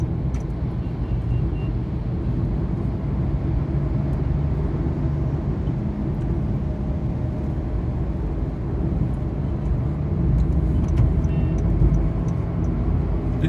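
Steady highway traffic near Bangalore, a continuous low rumble of cars and trucks passing at speed, heard from inside a moving vehicle with no talk.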